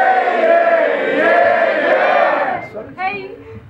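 A hip-hop concert crowd screams and cheers loudly in a sustained roar of voices at close range, fading out near the end as a few individual shouts break through.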